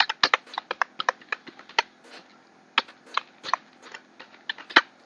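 Someone types on a computer keyboard in short irregular runs of crisp, close keystrokes, with sharp clicks separated by brief pauses and no voice over them.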